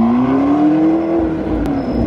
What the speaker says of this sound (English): We're gonna be backing up the McLaren. This is the first time they've seen it idling.